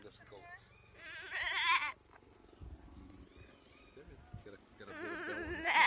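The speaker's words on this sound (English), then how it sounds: "And the sheep. And the goats." Sheep and goats bleat on a farm, with two louder bursts of bleating over people talking nearby and a mix of faint animal calls in between.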